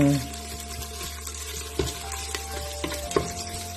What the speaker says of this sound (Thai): ป้านุก็จะผัดพริกก่อนนะคะ ผัดพริกให้หอมหอม